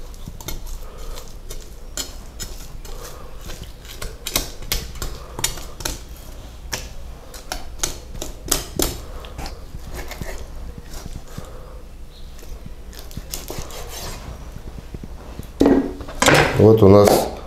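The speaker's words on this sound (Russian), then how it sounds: "Разрезаем по бокам и засовываем ножик." Knife cutting along the bone of a raw chicken thigh, quick close scraping and tapping against the board and bone, ending with a louder burst of handling.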